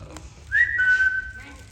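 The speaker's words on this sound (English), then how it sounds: "Did you hear that? Somebody's whistling." A single clear whistled note rises briefly then holds steady for about a second, fairly loud against a quiet background, during a stage musical performance.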